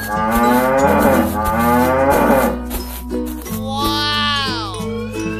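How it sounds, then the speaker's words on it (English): A cow moos in a long, drawn-out low call, loud and close, with a rhythmic musical backing running underneath. "Cow."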